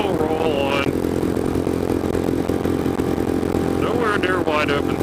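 A Scram 411 motorcycle engine runs near wide-open throttle while creeping up to about 70, a steady, loud, low drone with a rider talking over it.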